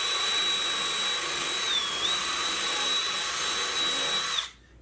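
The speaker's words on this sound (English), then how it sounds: "Take a drill." A power drill runs steadily at high speed for several seconds on model railroad module work, a loud, continuous whine holding one pitch with a brief dip midway, then cutting off abruptly at the end.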